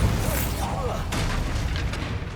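A single Bombarda spell explosion in the video game Hogwarts Legacy, a loud boom with a sharp burst followed by a brief fading rumble, with a voice calling out the spell.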